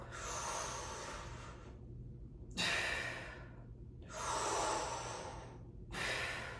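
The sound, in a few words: breathing in during a stretching breath exercise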